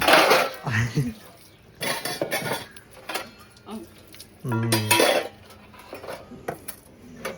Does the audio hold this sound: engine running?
no